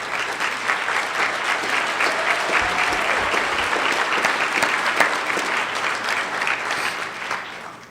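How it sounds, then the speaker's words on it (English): A large audience breaks into sustained, rowdy applause, thick continuous clapping at full strength across the whole stretch with a faint murmur underneath. "I'd like you to give him a rowdy round of applause"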